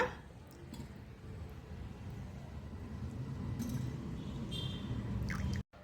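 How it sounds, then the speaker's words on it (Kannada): Jaggery water trickles and drips steadily through a strainer into a bowl, a soft continuous pour heard up close with faint clinks near the end. "ಈಗ ನಾವು ಮಾಡಿ ಇಟ್ಕೊಂಡಿರೋ ಬೆಲ್ಲದ ನೀರು ತಣ್ಣಗಾಗಿದೆ ಈಗ ಇದನ್ನು ಒಂದು ಬಟ್ಲಿಗೆ ಸೋಸ್ಕೊಳ್ಳೋಣ"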